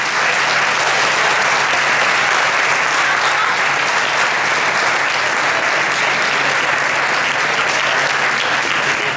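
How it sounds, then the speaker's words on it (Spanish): Loud, sustained applause fills the room as an audience at a Rosario medical school health-camp event claps continuously, a thick unbroken roar of hands with no talking over it. "Yo pido un fuerte aplauso para los chicos que han entrado a hacer el trabajo hoy."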